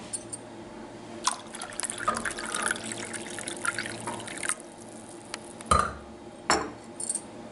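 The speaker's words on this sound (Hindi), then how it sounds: "बाकी 3 हिस्से हम इसमें पानी डालेंगे" Water poured into a glass holding orange squash concentrate, a soft trickle with scattered drips and light clinks of glass and spoon, quiet and close.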